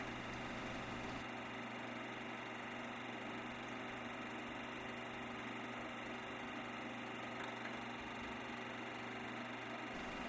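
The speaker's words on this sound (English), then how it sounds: "Number 98, Alfred Goldschmidt in his Cadillac Allard J2" Cadillac Allard J2 race car engine at the 1950 Watkins Glen Grand Prix, a steady droning hum with strong low tones holding for about ten seconds, heard through old film-era recording noise with no talk.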